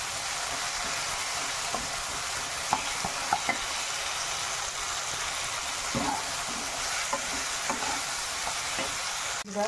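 Onion and tomato fry with masala in a pan for chicken masala, a dense, steady close-up sizzle with occasional stirring taps and clinks, no talk.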